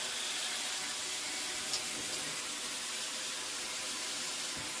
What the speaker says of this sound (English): Turn the water back on, and here we go.